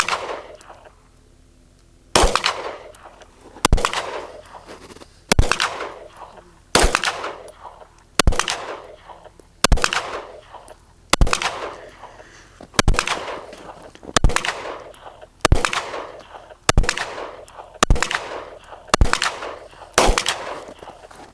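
An H&K VP9 striker-fired handgun fires about thirteen loud, sharp single shots at a steady pace, roughly one every second and a half, with the report ringing out briefly after each shot.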